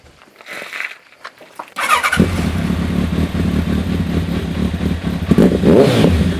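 A 2001 Kawasaki ZRX1200S motorcycle engine fires up after a few quiet handling noises, then settles into a loud, close, steady idle with rising revs near the end.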